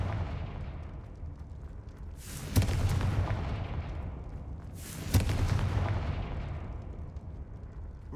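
The Confringo fire blast spell exploding in the Hogwarts Legacy video game, two heavy booming blasts a few seconds apart, each a sharp crack rolling into a rumbling tail over a low background hum.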